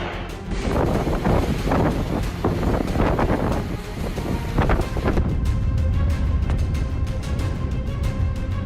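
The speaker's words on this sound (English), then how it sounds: "Typhoon Makala blew out the windows on the 27th floor of a building in Fuzhou, China" Typhoon Makala's winds roar through a high-rise building in Fuzhou, China, where windows were blown out on the 27th floor; a loud, continuous rushing gust buffets the microphone throughout, with no talking.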